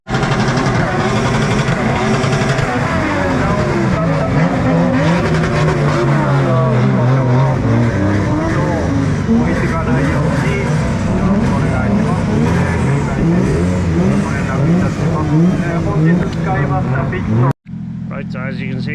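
Drift cars at a Drift Matsuri event roar with loud, continuous engine revving and tyre noise close by, with people talking over the din before it cuts off abruptly near the end.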